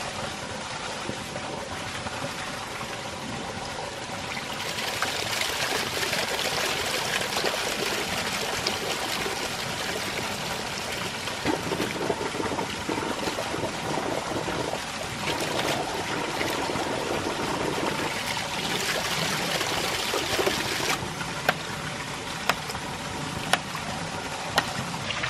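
Creek water rushing steadily through a dual ram pump intake, a continuous broadband flowing wash with splashing texture, fairly close and loud throughout, with no speech.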